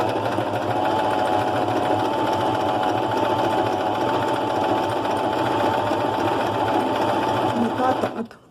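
Sewing machine running steadily as fabric is guided around a rounded corner, a continuous close mechanical whir with rapid stitching rhythm that stops abruptly at the end; quiet voices are faintly present underneath.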